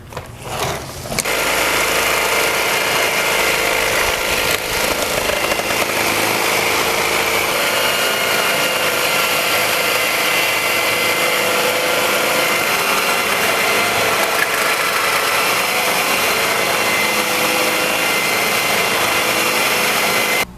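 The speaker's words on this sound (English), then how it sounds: "I ran the Scarab around with those 16 grit tools, and it seems like it's done a good job." A Scarab handheld grinder fitted with 16 grit tools grinds epoxy off a concrete floor, starting abruptly and then running as a loud, continuous harsh whine with gritty scraping for around twenty seconds.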